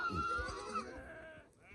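Goats bleat in quick repeated calls out in open grazing land, loud and close, with a few overlapping voices and no talk over them.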